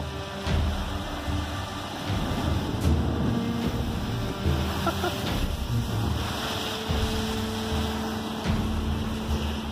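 Ocean waves wash and crash continuously beside a cruise ship under steady wind and microphone buffeting, with heavier surges at intervals across the whole stretch.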